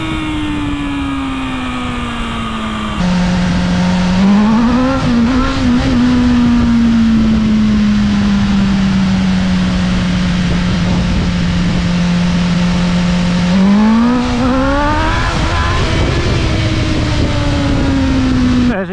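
A BMW S1000RR motorcycle engine revs hard as the bike accelerates through a wheelie, a loud, close, continuous whine that climbs, holds and climbs again over steady wind rush, with no talking.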